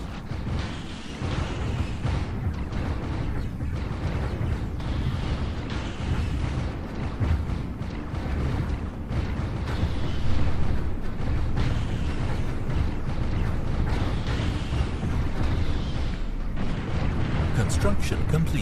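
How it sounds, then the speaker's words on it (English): Torpedoes launching during a Stellaris fleet battle: dense, continuous booming and rumbling space-combat blasts with layered mechanical clatter, sustained loud throughout without pause. "There's our torpedoes being launched."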